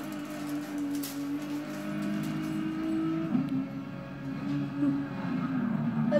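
Racing car engines from a PS4 racing video game drone steadily in the foreground, a continuous revving hum with slight pitch swells, without pause across the stretch.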